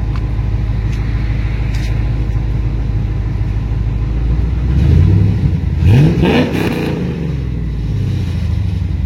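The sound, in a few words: car exhaust with Hooker muffler revving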